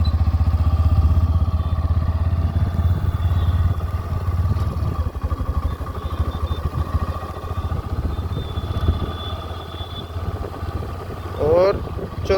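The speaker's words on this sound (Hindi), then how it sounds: "तीसरे गियर में लगा के छोड़ दो, अपने आप चलती रहेगी।" A 2025 Hero Glamour X ride-by-wire motorcycle running in third gear, giving a steady, loud low engine drone with road rumble throughout and someone talking over it.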